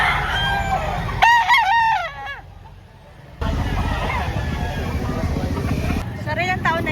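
At a chicken market in Lipa, Batangas, a three-year-old rooster crows loudly and close in a long wavering call, followed later by another crow, over market crowd babble and people talking.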